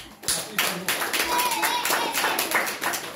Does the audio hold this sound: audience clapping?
yes